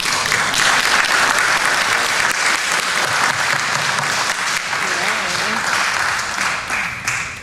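Loud applause from an audience at a city council meeting, dense clapping held for several seconds before thinning and fading out, with some voices mixed into the crowd.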